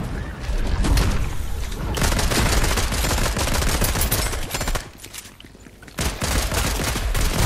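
Pump shotgun in Fortnite firing in a loud, dense string of blasts during a horde fight, broken by a short quieter gap before the shooting resumes.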